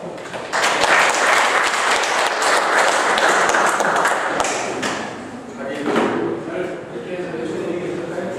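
Audience applause welcoming two guest labor-law experts at a bank union's extraordinary general meeting, a burst of many hands clapping that swells, holds for several seconds and then fades, followed by scattered claps and murmurs.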